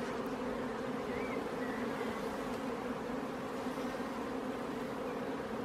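Honeybees hum in a dense, steady drone from an opened hive during an inspection, the buzzing continuous and close with no break and no voices.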